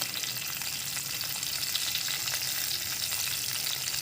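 Steady, bright sizzling of onions frying in hot oil, continuous and close, with no talking.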